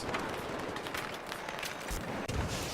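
Blasts from several grenades in Battlefield 3, a dense, loud rumbling burst of explosive noise with sharp cracks throughout and a final heavy thump near the end.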